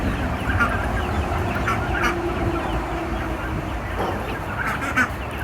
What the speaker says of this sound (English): we got ducks, a whole slew.